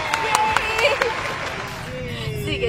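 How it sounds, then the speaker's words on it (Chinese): A small group welcomes someone on a street with brief, lively hand clapping. Voices talk and cheer over it. "拍手！"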